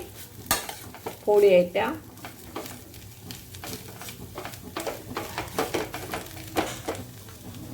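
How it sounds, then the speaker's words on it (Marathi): Boiled potatoes are mashed with a spoon in a pan or bowl, giving a run of close clinks and soft squashing scrapes over a faint sizzle, with a brief spoken phrase early on. "बटाटे असे बारीक करून घ्यायचे आहेत चमच्याने."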